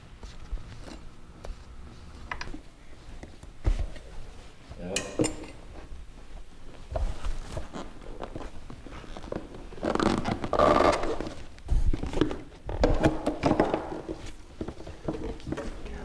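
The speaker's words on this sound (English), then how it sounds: "We're going to get these boot clamps loosened up, get the carburetor out of the way" Boot clamps being loosened and a carburetor pulled from a dirt bike: scattered metallic clinks, tool clatter and scraping come in irregular bursts, close and fairly quiet, with rustling handling noise between.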